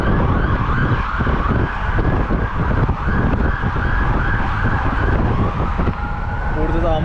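An ambulance siren wails continuously on a street in Mexico, loud and fairly close, mixed with traffic noise and people talking.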